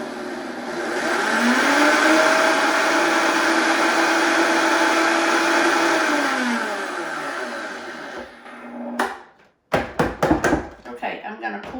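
A countertop blender pulsing keto hot nutty cereal, one long loud whirring run whose pitch climbs then sags as it winds down, followed by a few short choppy bursts.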